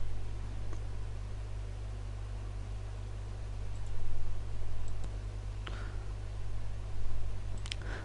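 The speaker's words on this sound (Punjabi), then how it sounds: "ਫਿਰ ਡਨ ਤੇ ਕਲਿੱਕ ਕਰ ਦਿਓ" A computer mouse clicks a few times, crisp and close, over steady background hiss with no talking.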